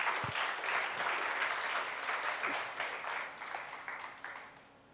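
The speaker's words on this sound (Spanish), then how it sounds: "Dale un aplauso al Señor, por favor." A congregation claps for the Lord during a church sermon, a brief burst of applause that fades gradually over a few seconds.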